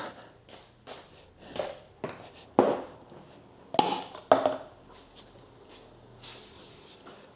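An aerosol cleaning spray can is sprayed on a Dell laptop keyboard, giving several short close hissing bursts among light taps and handling noises, with a longer hiss near the end.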